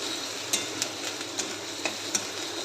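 Onion and tomato masala with turmeric is stirred in a pan: a soft, steady sizzle with a handful of light, sharp spoon taps against the pan, close by and without talk.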